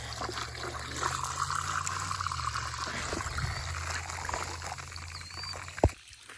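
Water pours and trickles steadily for several seconds while rinsing a container outdoors, a continuous splashing flow with a brief knock just before it stops.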